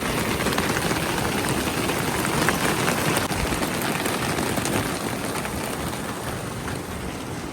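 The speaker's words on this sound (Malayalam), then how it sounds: "നല്ല മഴ പെയ്യാൻ തുടങ്ങിയിട്ടുണ്ട്" Heavy rain begins falling on a morning at Alappuzha, a loud, dense, steady hiss that fills the whole stretch without pause, with no one talking.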